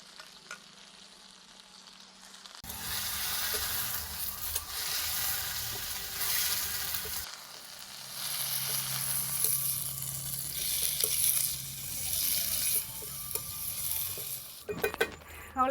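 Mint leaves from a home hydroponic garden, with onion, tomato and chili, sizzle and fry in a pan for mint chutney, a steady loud hiss broken by spoon stirring and light clinks, fading briefly then resuming.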